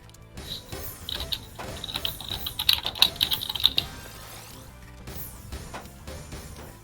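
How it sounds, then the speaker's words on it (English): Rapid keyboard typing during an online TETR.IO Tetris match stream, a steady flurry of close, crisp key clicks that builds into louder bursts in the middle, with no talk over it. "I heard you typing out that message."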